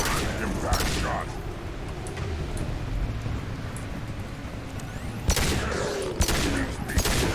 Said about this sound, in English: I'll just stick with my sniper rifle.